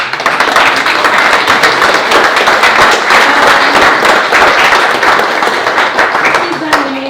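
Wedding guests clap in a dense, sustained round of applause lasting several seconds, loud and close, with voices mixed in underneath.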